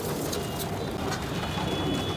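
Soft cooing from flying pigeons kept at a loft blends into a dense, constant background murmur. The coos are brief and low, with no clear voices over them.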